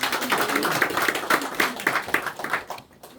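Church congregation applause at a Korean Sunday service, with dense clapping from many hands sustained for a few seconds before tapering off quickly at the end.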